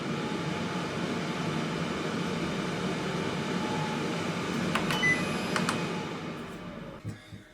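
A Cosori Turbo Tower dual-basket air fryer runs with both baskets cooking, giving a steady fan whir and airflow hum, then a few short electronic beeps before the noise winds down and stops near the end.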